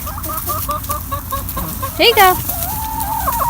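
Several backyard hens cluck close by in short, repeated bursts, with one louder squawk midway and a person speaking briefly among them.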